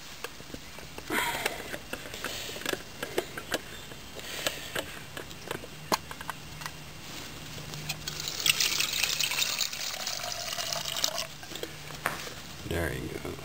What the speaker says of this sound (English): I'm going to put some water.